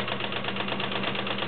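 A Kenmore Model 1601 sewing machine sews a straight stitch, its mechanism running in a steady, even whir with a fast regular pulse and a faint repeated click, close and moderately quiet.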